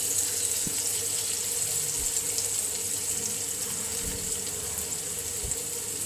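A kitchen tap runs steadily into a vessel during breakfast cooking, giving a close, continuous gushing flow with a few soft knocks, and no one speaks.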